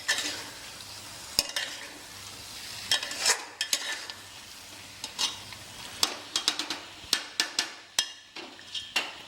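Chicken banjara curry frying in a pan while a spoon stirs it. A low sizzle runs throughout, broken by many sharp, irregular clanks and scrapes of metal on the pan, close and fairly loud.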